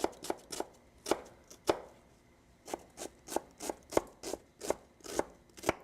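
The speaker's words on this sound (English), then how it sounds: "in the meantime, you cut some little red onion" A knife chops red onion on a cutting board, a close series of crisp, quick thuds in uneven bursts, about a dozen strikes with a short pause midway, no voice present.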